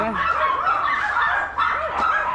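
A dog at a large house in Bangkok barks and yips in quick repeated bursts, fairly close and loud, over a constant background hum.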